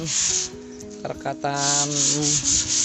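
Sandpaper scrubbing rusty iron fence bars before painting, close and loud, with repeated rubbing strokes in a steady back-and-forth rhythm and a brief squeaky tonal scrape in the middle.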